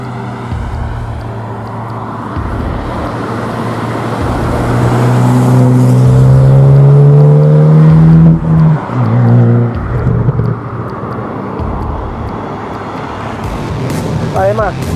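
A 2022 Hyundai i20 N hot hatch pulls hard on the road, its engine note climbing steadily through the revs before easing off and building again, loud and close inside the cabin beneath a person talking.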